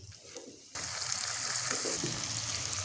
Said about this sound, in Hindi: थोड़ा सा हम इसमें 1 चम्मच पानी डालते जाएंगे और अच्छी तरह से हम बुनाई कर लेंगे।